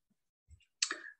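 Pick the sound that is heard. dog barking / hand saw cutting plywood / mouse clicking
mouse clicking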